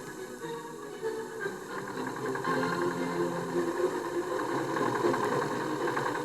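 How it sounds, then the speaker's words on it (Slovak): Tractors rolling along roads from forage fields, a steady mid-pitched engine drone with rattling vibration, growing slightly louder and holding near. "Deň za dňom schádzajú po cestách z porastov viacročných krmovín traktory."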